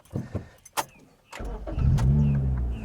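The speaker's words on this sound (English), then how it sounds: "It sounds like such a bigger engine than it is." A few clicks and a short whir, then a Suzuki Ignis Sport's small engine fires up and settles into a steady, throaty idle close by.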